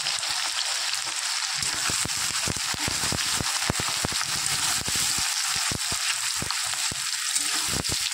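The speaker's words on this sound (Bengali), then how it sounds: "তেল ভালো মতো গরম হয়ে গেছে, এবার দিয়ে দেবো পেঁয়াজ কুচি।" Chopped onion hits hot oil in a pan for chicken kosha and sizzles loudly and steadily. Dense crackles and pops run throughout with no voices.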